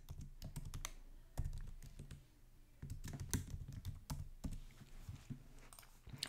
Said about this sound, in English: Start by clicking on your text tool and typing your